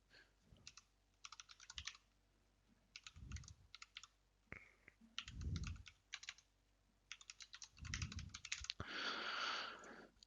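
An email address typed on a computer keyboard, heard as close, quiet clusters of quick key clicks separated by short pauses, with a few heavier taps and a brief rustle near the end, no voices.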